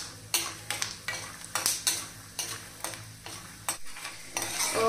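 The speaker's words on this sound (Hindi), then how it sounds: "सबसे पहले हम मूंगफली को फ्राई कर लेंगे" Peanuts frying in a pan, stirred with a utensil that gives sharp scraping clinks roughly every half second over a low sizzle, close up and with no talk.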